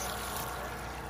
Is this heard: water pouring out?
yes